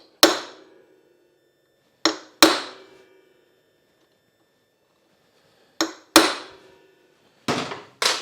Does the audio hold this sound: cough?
no